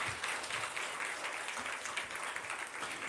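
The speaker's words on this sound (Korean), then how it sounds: "우리 크게 축복의 박수를 보내주시겠습니다." A church congregation at a Sunday worship service claps in blessing, producing a sustained, even round of applause at moderate level with no voices over it.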